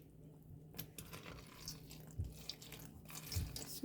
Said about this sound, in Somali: biyo baan usoo shubayaa, biyo yaroo diiran baa lagu qoyn